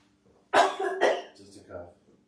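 A single sharp cough followed by a second cough and a brief throat-clearing rasp, close and clear against a quiet background.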